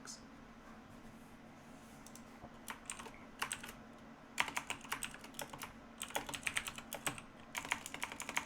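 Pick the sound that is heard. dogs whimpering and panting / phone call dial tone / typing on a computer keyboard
typing on a computer keyboard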